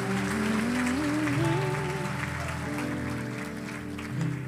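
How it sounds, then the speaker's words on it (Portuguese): Congregation applause during a church service, a steady wash of clapping heard under sustained keyboard or organ chords and a wavering melodic line, moderately loud and continuous. "dá uma salva de palmas bem alto"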